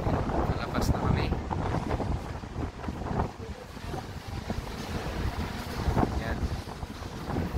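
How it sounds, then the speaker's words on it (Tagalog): Strong wind buffets the microphone on a boat at sea, a continuous loud roar with gusting surges, while someone speaks Filipino over it. "Lakas yung hangin."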